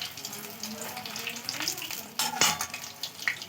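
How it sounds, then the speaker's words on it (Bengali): Cauliflower pakoras deep-frying in hot oil give a steady bubbling sizzle, broken by occasional turning clatters and scrapes in the pan, near and moderately loud. "উল্টিয়ে পাল্টিয়ে মাঝমাঝে করে ভেজে নিন"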